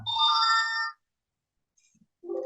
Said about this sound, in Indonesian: jika ada kesalahan pada penulisan password, maka ada notifikasi password salah